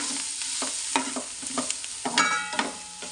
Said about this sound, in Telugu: కూర మంచిగా వేగుతుంది